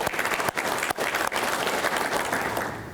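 Audience applause at a public dedication event for a Georgia mega site project, a dense sustained clapping from a large crowd, loud and close, tapering slightly at the end with no speech over it.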